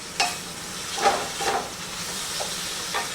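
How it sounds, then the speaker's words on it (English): Chicken penne sauce with lime juice being stirred in a pan, a few soft scraping strokes over a steady low sizzle, close and alone. "I stir."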